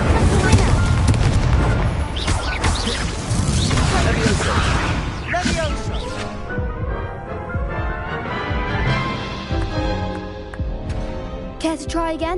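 Incendio fire spells burst repeatedly in the video game Hogwarts Legacy, with dense, loud explosive blasts and booms layered over a continuous bed of game effects and music.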